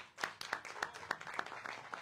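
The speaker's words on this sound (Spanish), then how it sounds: "para que pida un fuerte y caluroso aplauso." Scattered, evenly spaced claps from an audience at a press conference in Tepeaca about festivities honoring San Francisco, faint and thin, around eight claps over two seconds.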